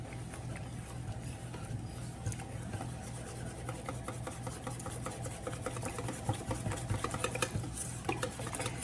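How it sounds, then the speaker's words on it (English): Half and half being whisked in a bowl, a soft, quick, continuous scraping and tapping of the whisk against the bowl, close but fairly quiet, with no talk. "Here's a little half and half. You could use heavy cream milk. I really like heavy cream today, but I want it not quite as rich today. I'm just gonna whisk this."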